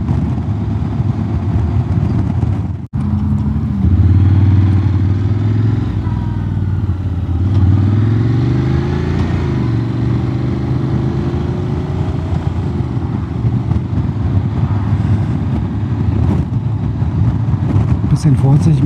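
A Honda X-ADV 750 on a road with new tires, riding with a steady engine hum and shifting pitch as it changes speed, wind rushing throughout, a rider talking over it.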